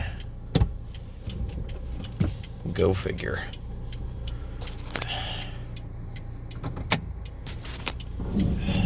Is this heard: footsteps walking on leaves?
no